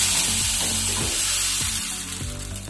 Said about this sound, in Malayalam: ഇനി ഇതിൽ നമുക്ക് മാവ് ഒഴിച്ചു കൊടുക്കാം. പാൻ നല്ല ചൂടായതിന് ശേഷം മാവ് ഒഴിക്കാം.